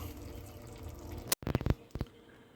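Blended tomato chipotle sauce for Instant Pot birria tacos pours into a pot, a thick liquid splash followed by a few short wet glugs and drips, close and fairly quiet.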